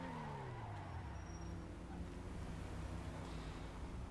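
JB700W sports car in GTA 5 accelerating for a brake test, engine pitch sweeping upward in rising harmonic bands under a constant wash of road noise, fairly faint overall.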